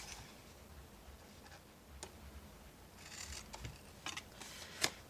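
Scissors cutting cardstock for a paper craft box: faint, sparse snips and small clicks over quiet room hiss, a few sharper cuts near the end.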